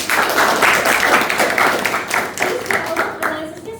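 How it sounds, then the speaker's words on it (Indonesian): A classroom group claps for student presenters in a small room with a short run of distinct, fairly close handclaps in a loose rhythm that thins out toward the end. "tepuk tangan dulu"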